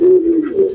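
A single domestic pigeon gives a low, rounded coo, close and clear, with no other sound around it.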